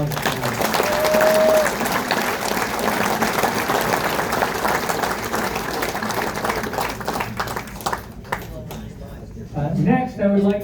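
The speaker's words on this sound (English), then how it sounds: "So if we can now have a round of applause for them." A crowd at a wrestling hall of fame banquet applauds loudly and steadily for about eight seconds, then the clapping fades and a voice begins speaking.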